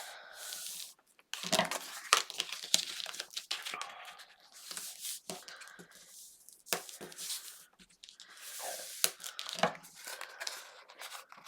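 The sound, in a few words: folding paper ends of an album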